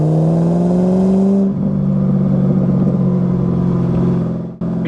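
A 2000 Chevrolet Camaro SS with the LS1 V8 and six-speed manual drones loudly on a test drive, its engine note climbing under acceleration, then dropping away as the driver shifts and the revs settle into a steady rumble.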